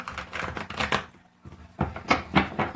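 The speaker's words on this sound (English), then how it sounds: "So it looks like we got 3 more shuffles" Tarot cards are shuffled up close in quick clattering bursts, with a short pause partway through before more shuffling.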